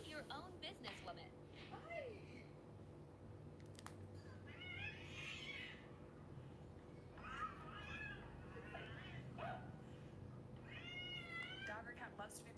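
A cat meows several times, drawn-out and wavering, over steady background noise and low murmuring.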